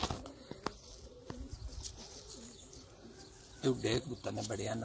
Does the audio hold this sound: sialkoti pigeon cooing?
yes